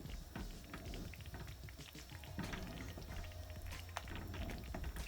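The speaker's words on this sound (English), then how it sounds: "when you're cooking cornmeal porridge, be careful because you don't want it to pop and get you on your hand" Cornmeal porridge bubbles in an open pot, a dense, steady stream of wet pops and gloops close by, with sharper individual bursts scattered throughout and no voices.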